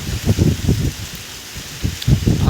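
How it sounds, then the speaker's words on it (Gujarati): Rain falls in a garden with mango and chikoo trees, a steady hiss of drops broken by gusty, rumbling bursts of wind, close and loud. "વરસાદ આવે છે ફૂલ."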